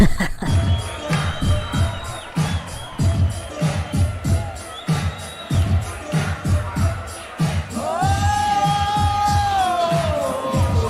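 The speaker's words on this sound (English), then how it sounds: "It's a bigger crowd than most UFC fight nights." A large crowd roars at a boxing-style ring entrance for the fighter known as King Cobra, with loud, rhythmic pulsing chants and bursts, then a sustained swell of cheering and whooping near the end.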